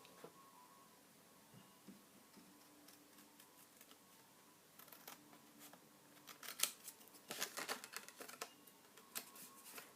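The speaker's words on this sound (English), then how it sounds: "So we'll just cut that off." Scissors cutting scored paper card give quiet, scattered snips and clicks that grow denser and louder toward the end.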